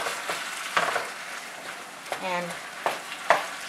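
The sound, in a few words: stirring and frying ground meat for lumpia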